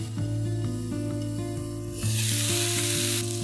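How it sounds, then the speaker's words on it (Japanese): Ground pork fries over medium heat in a frying pan with a continuous close, loud sizzle, and the hiss grows brighter and stronger about halfway through. No one speaks. "裏側にも軽く塩コショウして中火で焼いていきます。"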